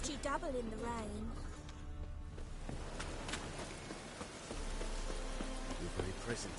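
Rain in the video game The Witcher 3 falls as a steady, close patter on surfaces, with a voice speaking briefly near the start before the rain continues alone.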